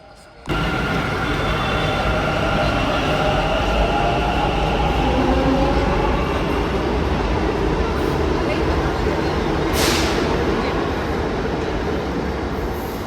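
A Bengaluru metro train rolls loudly into the station with a steady roaring rumble and a brief wheel squeal, voices faintly audible beneath.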